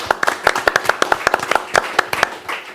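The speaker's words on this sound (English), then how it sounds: "Give a round of applause for Martin." Light applause from a small audience after a music discussion event in London, a handful of hands clapping in a loose, uneven rhythm of distinct sharp claps, close and thinning out toward the end.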